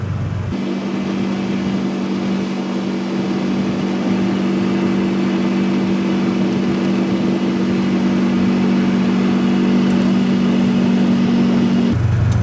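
Steady engine drone from a car driving around the oval of North Wilkesboro Speedway, a constant mid-pitched hum with little change in revs, heard alone and close for about twelve seconds.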